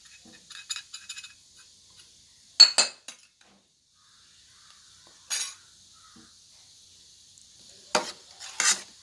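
A spoon clinks and scrapes in short bursts as spices are stirred into a Kerala-style trevally fish head curry, with quiet gaps between the metallic strokes.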